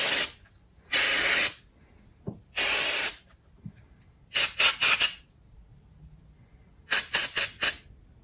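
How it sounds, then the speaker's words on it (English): Compressed air sprays through the carburetor of a 1989 Mariner 40 hp outboard boat engine, two single long blasts followed by two quick clusters of short hissing bursts, close and loud, with quiet pauses between. "I'll spray it with compressed air."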